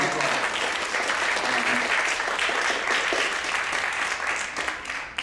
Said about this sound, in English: a big, big, big thanks to Sanjay and to resounding applause